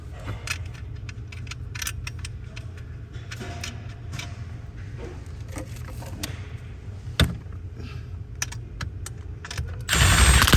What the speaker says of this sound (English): It might help if I tighten these bolts back up so it ain't bouncing